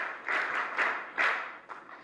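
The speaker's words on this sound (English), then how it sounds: "please let's clap for them" An audience applauds a senior banking leadership team at a business event, several short bursts of clapping rising and falling, moderately loud, with no talk over it.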